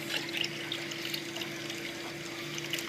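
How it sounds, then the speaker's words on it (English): Water runs steadily into a 5 gallon container, a continuous close splashing and hissing stream with a low steady hum beneath it and no pauses. "You just filling up with the water"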